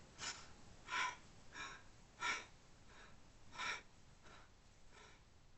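Breaths drawn in and pushed out at a slow, regular pace, soft and airy, some strokes stronger than others, with no talking.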